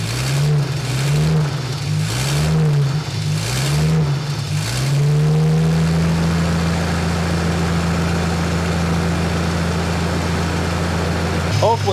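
A car engine being revved during a coolant head gasket leak test, with repeated rising and falling revs for about five seconds, then a steady raised drone held at elevated speed; loud and close with no talk.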